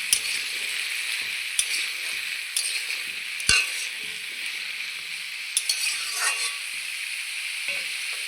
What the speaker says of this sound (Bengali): পেঁপে ভাজা হতে থাক